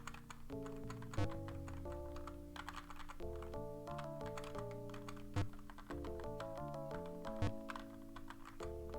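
Rapid clicks of computer keyboard typing while playing Akalabeth: World of Doom, a retro computer game, sit under steady, looping chiptune-style game music for the whole stretch.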